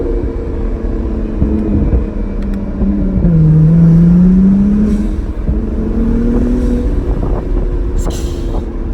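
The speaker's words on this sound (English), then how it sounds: "That's a turbo if you ain't know." Acura NSX twin-turbo engine revving up loudly and steadily, the pitch climbing and falling across a sustained rise, with a low rumble throughout and no talk.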